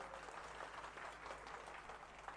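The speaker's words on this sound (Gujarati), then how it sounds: "એમના માટે એકવાર તાળીઓનો ગડગડાટ થઈ જાય." A crowd at a Jamnagar, Gujarat gathering with traders applauds Arvind Kejriwal, with sustained, fairly soft clapping throughout and no talking over it.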